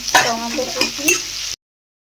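Ginger, green chilli and onion paste frying with spices in a pan for a magur catfish curry, a brief close hiss of sizzling oil with a few stirring scrapes before cutting off.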